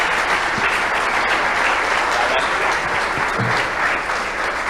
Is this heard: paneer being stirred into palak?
no